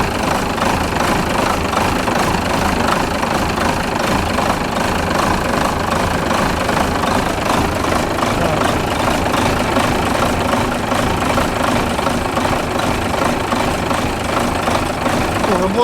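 A Renault Major tractor fitted with a Midri 420 engine runs steadily and loud for the whole stretch, a continuous low knocking drone with vibration and no break in the sound.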